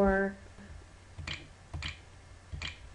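Keys on a computer keyboard are pressed to switch between English and Chinese input: three separate clicks spaced about half a second apart after a brief opening tone, fairly close and distinct against a quiet background.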